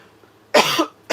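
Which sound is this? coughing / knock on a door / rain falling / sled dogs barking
coughing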